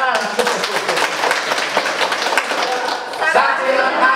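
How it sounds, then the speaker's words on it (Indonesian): Audience clapping at a political consolidation gathering for rayon coordinators and election witnesses, a dense, steady patter of many hands sustained throughout, with crowd voices mixed in underneath. "Tepuk tangan."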